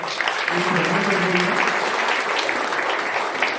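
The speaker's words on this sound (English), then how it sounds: "Can I have a huge round of applause for sir?" A large audience at an HR conclave applauds steadily, the clapping dense and even throughout, with a brief voice briefly audible under it early on.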